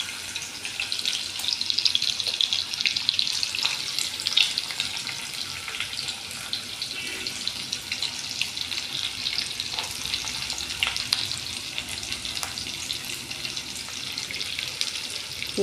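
Chopped onions added to hot oil with cumin and dried red chillies fry in a steady, crackling hiss that carries on evenly throughout with no talk.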